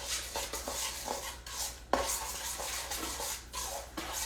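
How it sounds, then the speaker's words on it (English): Brown sugar and granulated sugar are stirred together in a bowl, with soft, repeated scraping and rubbing strokes at close range and no talking. "I'm going to mix that together"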